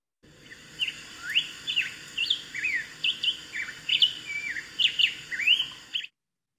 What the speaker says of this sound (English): Their song is very robin-like, except for it's more whistly, variable, and longer.